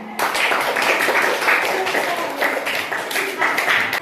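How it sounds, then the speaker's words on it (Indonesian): Schoolchildren in an Indonesian classroom clap for a student group, a dense burst of applause that continues steadily for several seconds, with voices mixed in. "Tepuk tangan untuk kelompok 3."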